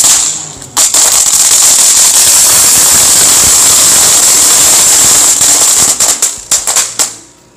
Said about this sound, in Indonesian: itu dia hasilnya dari mercon telur dino